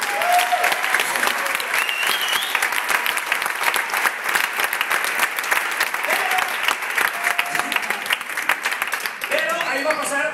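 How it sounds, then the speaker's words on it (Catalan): Audience applause at a TEDx talk in Valencia: dense, sustained clapping from a large crowd fills the whole stretch at steady loudness, with a few faint whistles or cheers surfacing near the end. "un aplaudiment per al moviment, per l'amor de Déu"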